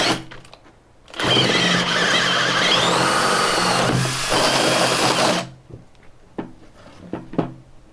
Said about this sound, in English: so I need to use the 7/8 size drill